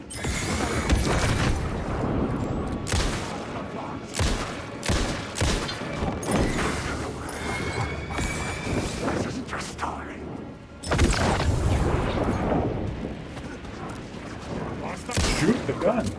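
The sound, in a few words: gunfire from a video game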